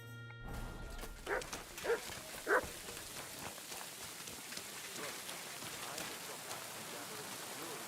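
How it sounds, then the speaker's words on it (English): Within the medieval role-playing game Kingdom Come: Deliverance II, a dog gives three short, fairly close barks over a continuous rain-like outdoor ambience. "Here, Mutt!"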